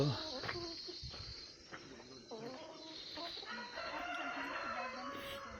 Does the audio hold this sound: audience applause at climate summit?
no